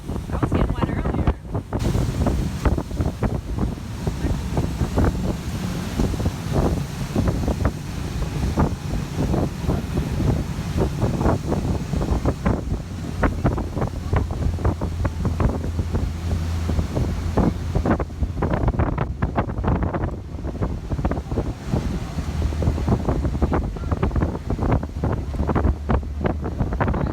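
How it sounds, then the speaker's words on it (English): Strong wind buffets the microphone at Spray Falls, a continuous roaring rush with gusty surges throughout, a voice briefly speaking under it. "Yeah, windy."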